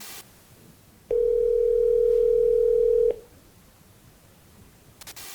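A telephone line sounds a single steady, pure tone lasting about two seconds before cutting off, loud against a quiet background, as a call goes unanswered.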